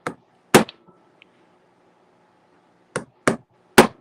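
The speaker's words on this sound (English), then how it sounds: "So I'm gonna get that brass hammer out" A brass hammer lightly taps copper sheet during metal texturing, giving five sharp, bright strikes: two close together, a long pause, then three more at an irregular, unhurried pace.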